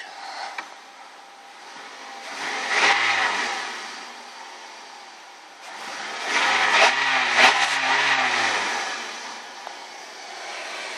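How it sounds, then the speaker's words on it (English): A 2003 Toyota Highlander engine revs twice with the door open, each rise swelling then falling back to idle, with steady rush-hour traffic rumble underneath throughout. "I guess I'll give it a few interior revs. We'll start with the door open."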